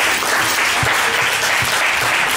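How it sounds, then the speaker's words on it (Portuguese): A church congregation applauds during a communion service, sustained dense clapping filling the room for the whole stretch with a few distinct nearer claps. "Você pode aplaudir ao Senhor"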